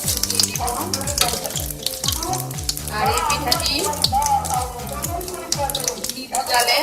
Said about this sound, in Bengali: তেল গরম হয়ে এসেছে এখন আমি তেলের মধ্যে চাকু দিয়ে এইভাবে দিয়ে দিব এখন